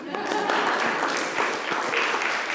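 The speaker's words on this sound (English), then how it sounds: "Let's give her a round of applause" A lecture audience claps in a short round of applause, moderate and steady, with some voices mixed into the clapping.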